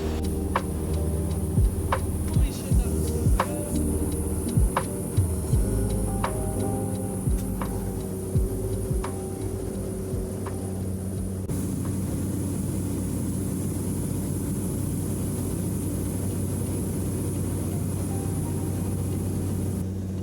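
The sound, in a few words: small 10-seater propeller plane in flight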